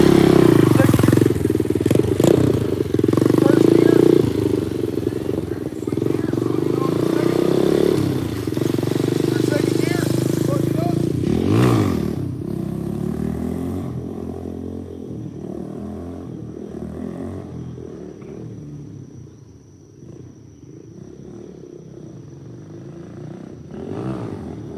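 A KP mini motorcycle revs hard during a sit-down wheelie, its engine loud and close with a rising and falling pitch. It peaks in a sharp swell about halfway through, then settles to a lower, quieter idle-like drone.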